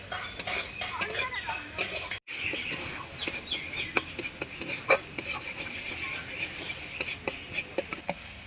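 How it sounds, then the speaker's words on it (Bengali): Spice paste for a soybean curry being stirred and cooked down in a pan in a village kitchen: steady close scraping with frequent metal clinks of the spoon against the pan, continuous throughout. "মশলাটা ততক্ষণ কষাতে থাকবো যতক্ষণ না জলটা একদম শুকিয়ে যাবে।"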